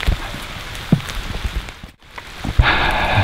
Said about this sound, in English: It looks like I'm gonna have to work in the rain a little bit.